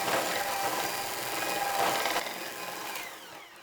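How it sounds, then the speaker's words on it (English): A whisk scrapes quickly and steadily around a bowl of chocolate marble cake batter, a faint, rapid, rhythmic swishing that carries on without pause. "So I'll just continue whisking this together until it becomes light."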